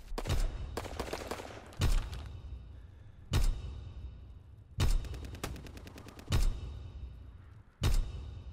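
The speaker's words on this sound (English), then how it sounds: "Firing battery one. Target position confirmed." Artillery battery fire in a World War II shooter game set around Carentan: heavy booming impacts arrive about every one and a half seconds, with rattling gunfire between them, loud and with no voices.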